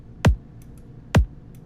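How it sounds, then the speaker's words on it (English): Two short, punchy kick drum hits with a sharp click on top, spaced about a second apart, dry and isolated. "For the main kick, I just used this sample."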